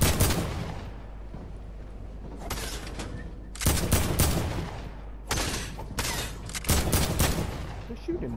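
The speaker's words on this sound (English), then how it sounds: "Shooting nades through the roof." Grenade launcher fired through a roof in a video game, several sharp bursts of explosions and gunfire in uneven clusters over a rumbling background, loud and near.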